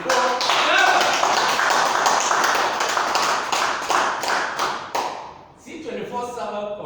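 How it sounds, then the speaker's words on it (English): Audience applause at a marketing presentation, with a run of sharp hand claps and taps for roughly five seconds that fade out, followed by a brief quieter stretch of other sound. "let's give a hand of applause to our C24 server"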